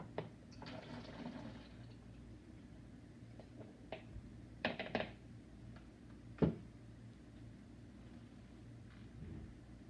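A liquid mixture being poured into a bottle at a home science experiment, quiet trickling and filling with a few sharp knocks of the bottle, faint and close.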